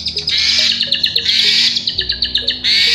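An Asian pied starling, a jalak suren, handled up close, gives rapid repeated chirps and bright whistled notes in quick bursts, loud and near, with no talking.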